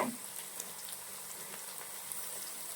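Chopped shallots and green chillies sauté in a pan for a Kuttanad-style fish head curry, giving a steady, close hiss of sizzling oil with faint crackles and no break.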